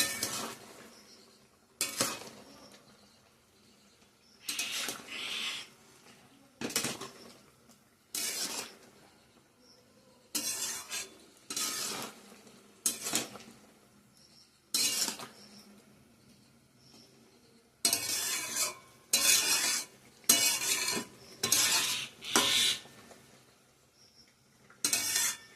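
A spoon scrapes and clanks against a pot as egg omelettes are stirred into curry, in irregular bursts of metallic scraping separated by short pauses, close and moderately loud, with no talk.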